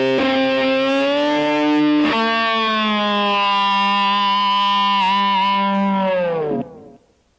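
Electric guitar lick, a sustained distorted note tapped up an octave and bent with the whammy bar, wailing like a siren for several seconds before dropping away abruptly, loud and close with no voices.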